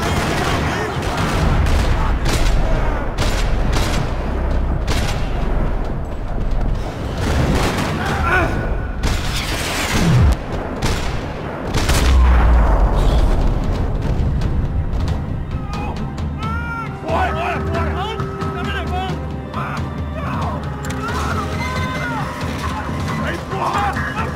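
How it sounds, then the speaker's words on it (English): Gunfire rattles through a parking lot in the video game Max Payne 3, with dense bursts of automatic fire, booms and crashes close and loud throughout, mixed with game voices and a music bed. "Another parking lot rattling with gunfire."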